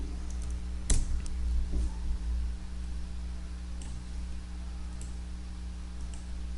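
The Enter key pressed on a computer keyboard, one sharp close click standing out, with a few faint taps after it over a steady low hum.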